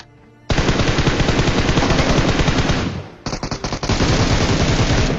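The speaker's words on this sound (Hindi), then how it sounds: "ये जो फायरिंग है उस टीम को 1 सेकंड के अंदर मारने वाली है" Sustained automatic gunfire in the PUBG Mobile battle-royale game, loud and continuous rapid bursts for about two and a half seconds, a brief break, then another dense volley.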